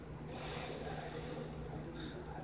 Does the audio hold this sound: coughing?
yes